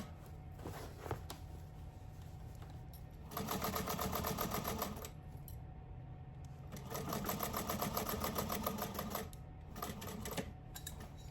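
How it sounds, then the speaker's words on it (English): A sewing machine runs two sustained bursts of top stitching along the closed edge of a fabric tote bag, a steady mechanical whir separated by quieter pauses, with short back-stitch stops at the start and end. "we're just gonna top stitch the edge of this closed, back stitching at the beginning and the end"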